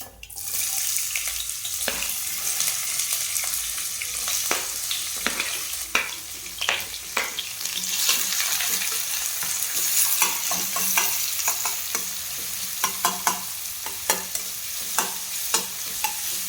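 Onion and curry leaves sautéing in hot oil with popped mustard and fenugreek seeds for crab masala, a steady close sizzle with intermittent scraping stirs of a spoon against the pan, no talk.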